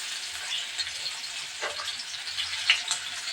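Onion frying in hot oil with cinnamon and cloves, a steady close hiss and sizzle with small crackling pops and a brief stirring scrape.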